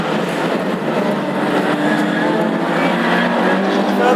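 Classic hot rod race cars racing at Lochgelly, their engines a dense, continuous roar that stays loud and steady throughout with no break.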